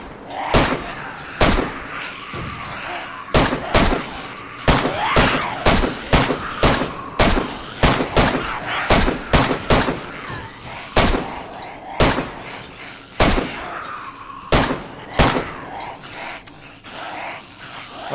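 Repeated gunfire from the survival video game DayZ, a long run of sharp, loud shots in irregular bursts and single cracks lasting throughout, over a steady game ambience with no talking.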